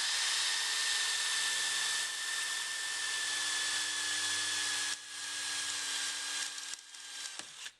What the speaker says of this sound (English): then we'll drill that out to 7mm